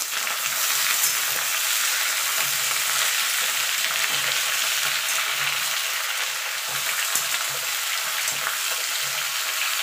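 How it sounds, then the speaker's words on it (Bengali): Potato, ridge gourd, eggplant, pumpkin and pointed gourd fry in hot oil for a mixed vegetable curry, giving a steady, close sizzle throughout with faint intermittent stirring clatter beneath. "এবার এটাকে একটু ভাজা ভাজা করে নেব।"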